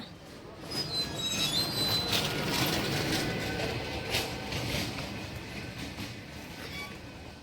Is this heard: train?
yes